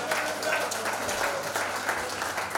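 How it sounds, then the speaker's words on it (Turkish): Wedding guests at a ceremony in Tetovo give the couple a steady round of applause, dense clapping from a crowd with a voice faintly under it. "Bir alkış daha isterim onlar için, gelsin şöyle bir alkış daha."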